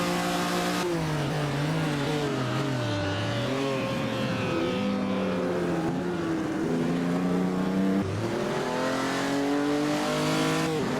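Racing cars at the 1948 Naples Grand Prix in Assetto Corsa: a loud, continuous engine drone that rises and falls with revving and gear shifts, heard alone without talk.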